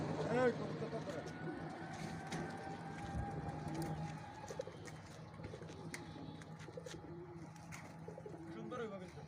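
Pigeons coo repeatedly at a pigeon club race release, soft throaty calls set against steady outdoor background noise with people talking nearby.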